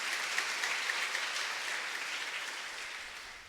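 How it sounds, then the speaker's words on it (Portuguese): Church congregation applauding Jesus during a homily, a steady wash of many hands clapping that fades slightly over a few seconds, with no speech over it. "Uma salva de palmas para Jesus."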